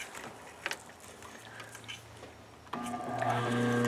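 A sewing machine backstitches on a bag made from zipper yardage, starting with light handling clicks and then breaking into a loud, steady motor whir near the end.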